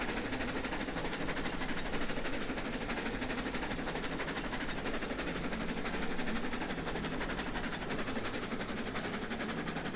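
A Shay locomotive in the game Railroads Online chugs along slowly, a dense, continuous mechanical rumble and hiss that stays steady and unbroken, with no talking.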